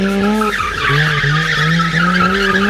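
Drift car tires screeching in a long continuous skid as the car spins to the left, loud and close, with wavering squeal tones over engine noise and no talking.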